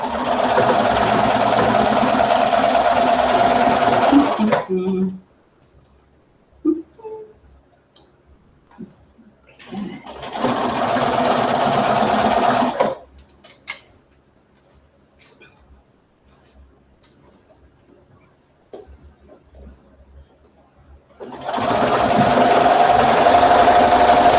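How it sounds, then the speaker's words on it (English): A sewing machine runs close and loud, stitching a narrow seam on a T-shirt in three sustained bursts separated by quiet pauses with faint handling noises. "And I'm sewing literally between 1/8 and 1/4 of an inch in."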